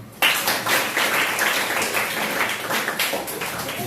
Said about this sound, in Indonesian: sekarang kita tepuk tangan dulu buat semuanya